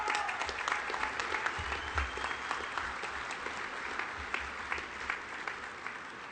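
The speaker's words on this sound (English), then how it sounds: "Round of applause for Delaware." An audience of over 200 at a fire service awards dinner gives a sustained round of applause for Delaware, with steady dense clapping and faint crowd murmur throughout.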